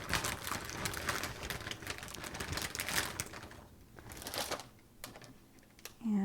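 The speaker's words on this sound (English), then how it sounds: "Now I'm going to cut up our spinach." Rapid, dense knife chopping of fresh spinach on a cutting board for spring roll filling, steady close tapping strokes that thin out toward the end.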